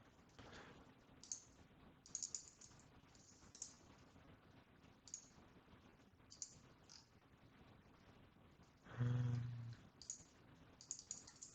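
Keystrokes on a computer keyboard while building a Power App, coming in short bursts of soft, close taps with pauses between, plus one louder thump near the end.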